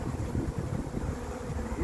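A dense, low hum of many honeybees buzzing steadily at close range as the colony is shifted from an old hive into a new one, with some wind noise on the microphone.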